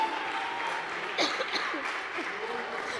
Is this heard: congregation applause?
yes